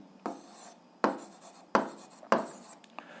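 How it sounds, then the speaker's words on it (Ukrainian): Pen writing a math solution on paper, four distinct scratchy strokes at fairly regular intervals, close and quiet, with a small tap at the end. "Давайте десь тут запишемо."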